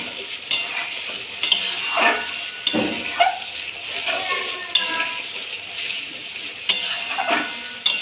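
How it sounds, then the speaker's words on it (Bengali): Spice masala for egg biryani being stirred and fried in a pan with salt and sugar, steady sizzling broken by repeated scraping strokes of a spoon, close and moderately loud, with no talking. "অল্প একটু লবণ দিয়ে মশলাটাকে আর একটু ভালো করে কষিয়ে নেব।"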